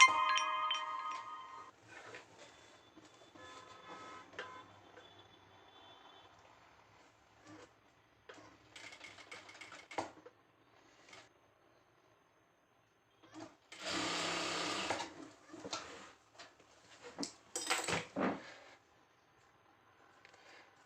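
A sewing machine stitches a folded half-inch hem on a straight-cut pant, in short separate bursts of running with quiet pauses between them and a louder, longer run near the end.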